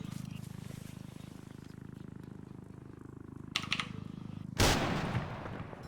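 Gunfire during an event in the video game Altis Life, heard as a few quick shots followed by a loud, sharp burst that rises above a steady low mechanical hum. A voice murmurs faintly in the background.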